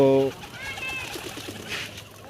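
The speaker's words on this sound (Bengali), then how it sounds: "আজকে আমার বাড়ির কিছু পায়রা" Domestic pigeons at home coo faintly and softly after a brief bit of someone talking at the start.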